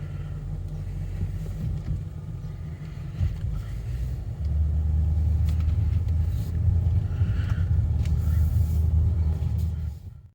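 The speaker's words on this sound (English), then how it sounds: "Let's go for a nice drive in the Range Rover." A Range Rover driving along a road gives a steady low engine and road rumble inside the cabin, growing slightly louder and fuller partway through, with some wind buffeting and no talk.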